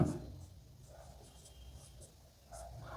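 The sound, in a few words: pen writing on paper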